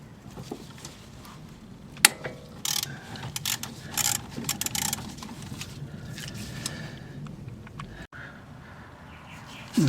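A hand ratchet working loose a 14mm nut on a Toyota Corolla front strut, giving bursts of quick clicking pawl strokes with pauses between, close and moderately quiet, with faint outdoor background and no speech.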